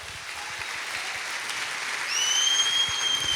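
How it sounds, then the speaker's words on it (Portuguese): A church congregation applauds during a worship service, a steady wash of clapping that holds evenly and swells slightly toward the end, with a faint sustained tone emerging in the later part. "Ele merece um aplauso nessa noite."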